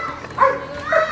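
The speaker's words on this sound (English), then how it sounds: "What's it with these dogs barking at me like?" Dog barks sound twice along a street while someone rides a bike to the shop, two bright yelps about half a second apart over outdoor background and nearby talk.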